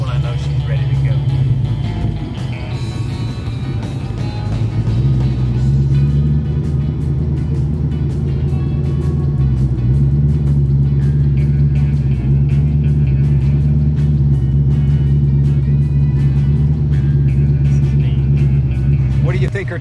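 A 1965 Ford Mustang Fastback with a C4 transmission runs continuously close by, its engine holding a steady deep rumble with small throttle blips, while someone talks over it.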